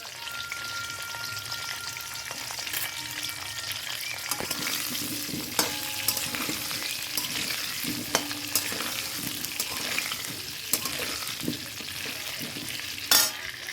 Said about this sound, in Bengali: এর মধ্যে দিয়ে এবার আস্তে আস্তে ভাজা করি